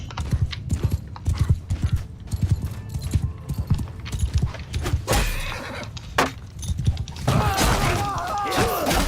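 Horse hooves clip-clop in a Mount and Blade II: Bannerlord battle, loud rapid galloping beats with a whinny, then crashing and clattering combat noise swelling near the end.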